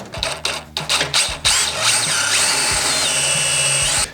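A power drill fitted with a step bit cuts into metal nearby, with a few short bursts of whirring followed by a long, steady, high-pitched grinding whine.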